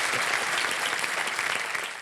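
Studio audience on the KBC Season 15 quiz show set applauds the contestants, a dense, steady wash of many hands clapping together at close range, filling the whole clip without a break.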